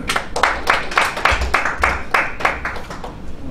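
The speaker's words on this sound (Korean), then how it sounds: "큰 박수로 환영해 주시면 감사하겠습니다." An audience at a Korean real estate law and tax forum claps in welcome, a steady run of hand claps lasting a few seconds, moderately loud and fairly close, with no talking over it.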